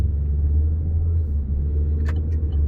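A Chevrolet Cruze 2017 LTZ 1.4 turbo engine fires back up after an automatic start-stop shutdown, a steady low idle rumble close by, with a faint brief click.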